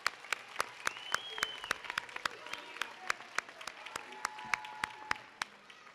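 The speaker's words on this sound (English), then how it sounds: "Can we give our graduates just one more round of applause?" An audience at a school district winter commencement claps for graduates, a sparse pattern of sharp individual claps, fairly faint and distant, with a few faint tonal sounds in the background.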